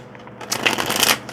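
A deck of cards is riffled close to the microphone, a quick crisp flutter of snapping cards lasting under a second after a quiet start.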